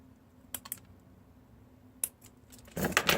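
Scissors snipping off excess ribbon or wire on a handmade ATC card bow: a few short, quiet, crisp cuts spaced apart, followed by louder rustling handling noise at the end.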